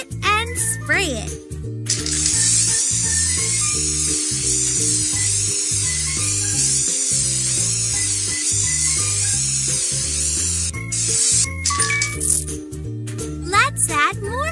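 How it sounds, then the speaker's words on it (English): A spray bottle hisses in a pony hair salon kids' game, a long shimmering spray sound running for several seconds over the cheerful looping game music, with a voice talking briefly near the start. "Shake it and spray it."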